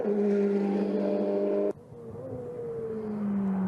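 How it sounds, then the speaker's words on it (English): A Ferrari Challenge race car at the Hungaroring brakes hard into a turn, its loud engine note cutting off abruptly before a lower, rising tone from another passing car takes over. "see the braking there into the turn from Thomas Gosner"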